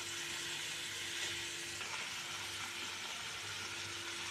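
Shredded cabbage fries in oil for cabbage rice, a steady even sizzle with a faint low hum underneath, continuous and moderately close.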